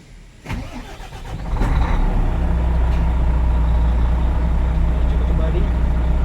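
A Volvo FMX420 truck's diesel engine cranks and starts up close, then settles into a loud, steady low rumbling idle that continues to the end.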